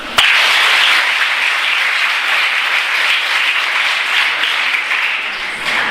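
A room of school students clapping together in one sustained burst, a dense wash of handclaps that starts sharply and holds steady and loud for several seconds, with no voices over it.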